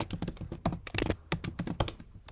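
Rapid clicks from a computer keyboard as a Linux system update command is typed at close range, with no talking.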